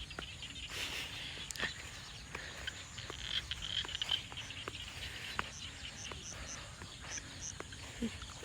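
Frogs croak from rice fields in Laos: a steady chorus of small, repeated calls and clicks over soft, continuous night ambience, with no voices.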